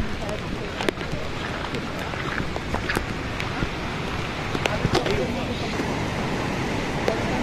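Water runs fast after heavy rain near Lonavala, a constant broad roaring wash with occasional sharp splashes and gusts of wind buffeting the microphone.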